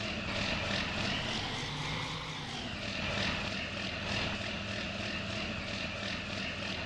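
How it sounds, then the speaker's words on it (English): A steady, droning tractor engine hum with a throbbing pulse runs continuously and loudly throughout, with no voices, in Farming Simulator 19. "How beautiful does this tractor sound?"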